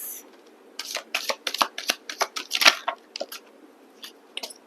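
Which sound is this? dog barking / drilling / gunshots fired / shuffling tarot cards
shuffling tarot cards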